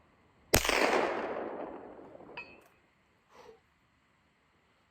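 A single sharp rifle shot from a Vudoo or Kidd Supergrade rimfire rifle at an outdoor match in the snow, a loud crack with a long decaying echo, followed by a faint distant ping from the target.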